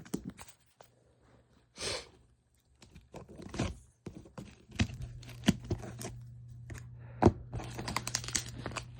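Cardboard packaging around a Kidde FX340SC-2 fire extinguisher is sliced and torn open in a quiet room, giving sharp bursts of scraping and ripping, then a steadier run of crackling and tearing.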